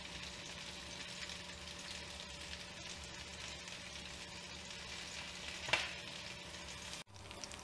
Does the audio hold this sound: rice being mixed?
yes